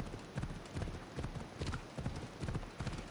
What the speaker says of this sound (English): Oh, now the horse can be in a hurry.